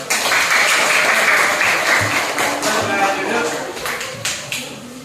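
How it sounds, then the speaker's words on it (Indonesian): A classroom group of students applauds for group 1, with dense, steady clapping from many hands that stays loud and then gradually thins toward the end. "Untuk kelompok 1 kita berikan aplaus"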